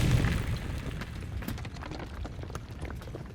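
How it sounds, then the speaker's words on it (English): A cave ceiling collapsing in an explosion that throws dust, a heavy booming blast at the start that decays into rumbling debris and scattered crackling bits, fairly loud with no talking. "An explosion sends a wave of dust flying over the Doctor as the ceiling just outside of the dome's exit collapses in on itself."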